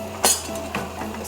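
Seasoning being mixed into cooked rice with a utensil, a few light scrapes and clinks against the pot spaced across a short moment, close and moderately loud, with no talk.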